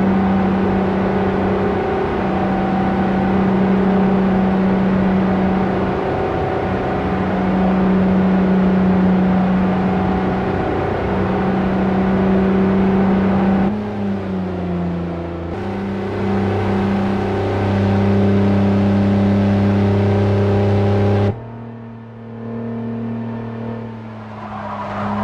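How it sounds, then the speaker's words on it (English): A 2012 Jeep Wrangler Rubicon in Forza Motorsport 4 lapping the Twin Ring Motegi speedway, its engine droning steadily at high revs, then a sharp downshift and rising pitch, with tire squeal mixed in and the engine easing off near the end. "today we're doing a test lap with the 2012 Jeep Wrangler Rubicon from Forza Motorsport 4"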